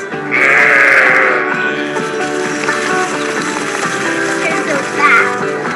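Sheep bleating on a holistic pasture-raised farm, one loud close bleat up front followed by mixed layered animal calls and a second bleat near the end.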